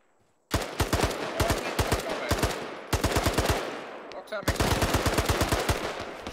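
Rapid bursts of automatic gunfire rattle loudly in three long strings with brief gaps between them, the shots sharp and evenly spaced.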